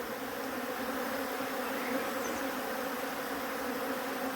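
Dense, steady buzzing of many bees around a hive colony, a continuous droning hum filling the whole span at even loudness, with no voices.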